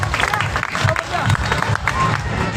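A crowd gathered at a public felicitation event in Ladnun gives a loud, sustained round of applause and cheering to welcome MLA Mukesh Bhakar, with dense clapping and crowd babble filling the whole stretch.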